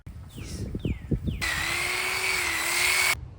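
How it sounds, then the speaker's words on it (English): A Sawzall reciprocating saw cuts through thick grass while levelling ground for an above-ground pool, with a burst of short scraping strokes followed by a loud, sustained buzzing run that stops abruptly. "we resorted to using a Sawzall, which worked better than the shovel"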